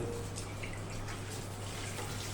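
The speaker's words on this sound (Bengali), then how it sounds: "হালকা পরিমাণ পানি দিয়ে" Water pours into a pan of fish curry with a steady, close splashing rush that runs at an even loudness from start to finish.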